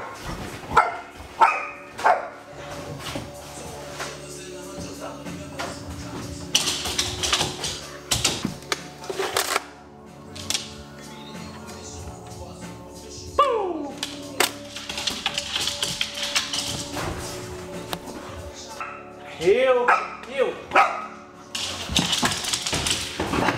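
A dog barks indoors in short scattered bursts, mixed with tapping and clattering household noises on a rainy day at home.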